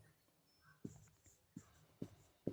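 Chalk or pen writing a decimal number on a board or paper, several short sharp taps and strokes in a quick uneven rhythm, close and fairly quiet in a still room.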